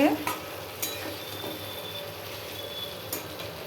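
Diced potatoes frying in a pan of hot oil for a soybean curry, a soft steady sizzle broken by a few scraping stirs of a spoon, close and fairly quiet.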